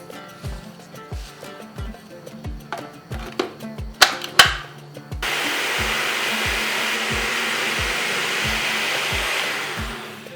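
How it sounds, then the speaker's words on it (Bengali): An electric grinder whirs loudly and steadily as it dry-grinds coarse semolina, running for several seconds after a series of rhythmic knocks and clatters. "যেহেতু এটা মোটা দানার সুজি, সেই জন্য একটু বেটে নেব।"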